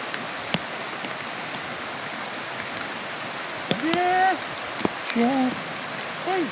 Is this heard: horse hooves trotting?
no